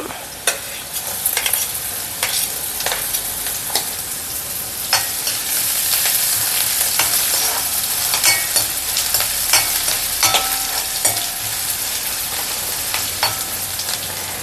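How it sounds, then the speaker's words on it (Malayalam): Chopped ginger fries in a pan with a constant sizzle, punctuated by sharp clicks and scrapes of a spoon being stirred, close and steady throughout. "ഇഞ്ചി അരിഞ്ഞ് വെച്ചിരിക്കുന്ന കൂടെ ഇടാം"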